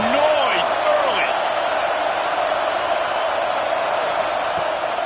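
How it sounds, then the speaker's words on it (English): Football stadium crowd roaring steadily at an Arkansas game, a loud continuous wash of cheering and noise that holds level throughout, with a commentator's voice faintly over it. "This crowd bringing the energy and noise early."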